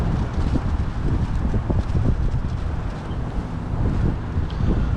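Steady wind buffets the microphone beside a fishing lake at Gold Valley Lakes in late December, a continuous low rumbling roar that stays loud throughout with no talk.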